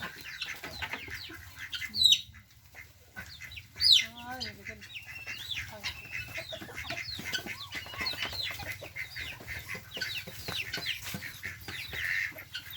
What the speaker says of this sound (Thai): เป็ดอันนี้เป็ดละ